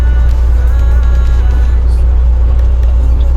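A truck bound for Michigan rolls along the road with a loud, steady low engine and road rumble, heard from inside the cab without a break.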